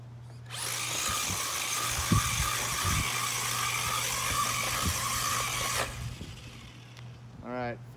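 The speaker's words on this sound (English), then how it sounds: "Ford GT did his donuts." A Traxxas 4Tec 2.0 RC car with a Ford GT body spins donuts, its electric motor giving a continuous high whine for several seconds before winding down, with brief clatter and voices nearby.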